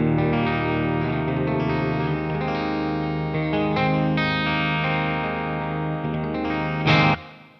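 A Telecaster electric guitar plays through a Boss Katana Artist MkII amp set clean with reverb. Sustained chords ring out continuously and loudly with a washy tail, then cut off abruptly near the end, with no talking.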